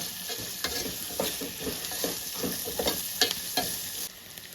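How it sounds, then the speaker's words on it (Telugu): Onions sizzle and fry in a pan while being stirred for a buttermilk rasam (majjiga charu), with a continuous close crackle and repeated scraping scoops of the spoon. "ఉల్లిపాయలు అనేది ఈ రకంగా వేగితే చాలండి."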